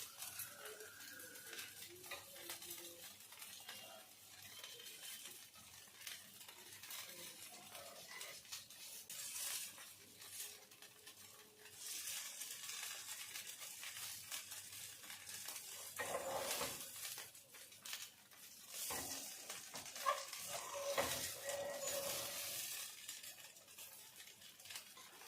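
Rawa dosa roasting until golden on a hot pan gives a steady, soft sizzle with light scraping and stirring sounds, and occasional clinks of a utensil against the pan, with no voices.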